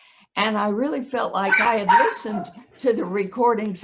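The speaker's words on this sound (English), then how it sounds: "Excuse my dog." A dog barks and whimpers in short yips indoors, mixed right in with a person talking steadily through most of the stretch.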